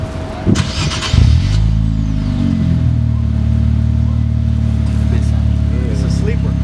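An Infiniti Q50 with a new aftermarket exhaust starts up: a brief crank catches into a rumbling idle that settles steadily, close by, with people talking briefly over it at first.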